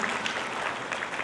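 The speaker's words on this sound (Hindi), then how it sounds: "और जोरदार तालियों से उनका अभिनंदन स्वागत करेंगे।" Applause from the audience at a Shrimad Bhagavat Katha recitation held in a Bhavani temple, a steady wash of clapping that stays fairly loud and even for a bit over a second.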